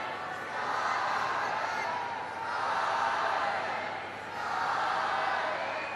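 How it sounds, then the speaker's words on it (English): A stadium crowd at an Ireland v Scotland women's Six Nations rugby match, with a steady roar of cheering and chanting that swells in waves and then dips slightly, heard from a distance. "the crowd are doing their part as Ireland take their first line out"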